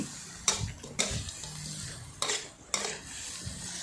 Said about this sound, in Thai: ผัดได้ที่แล้วเราก็ใส่หมูลงไปเลย